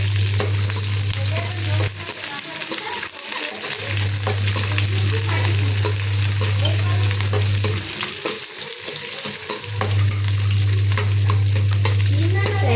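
Raw onion and curry leaves fry in hot oil with a loud, close, continuous sizzle, mixed with stirring scrapes and a low hum that cuts out twice.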